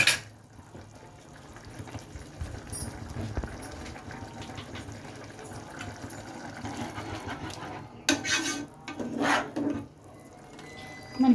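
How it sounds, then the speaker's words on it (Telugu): Vegetable egg soup simmering in a pot with pepper powder added, giving a steady low bubbling and watery churn throughout, with a few louder splashy bursts near the end and no talk. "ఒక 5 minutes మరగనిద్దాం"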